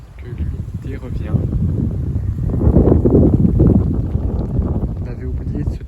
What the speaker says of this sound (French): vent de nord-ouest à 50 km/h